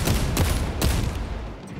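Rifle fire from the Warhammer 40K Space Marine 2 video game: loud, rapid bursts of gunshots in quick succession, with two or three sharper cracks standing out over a continuous rattling barrage.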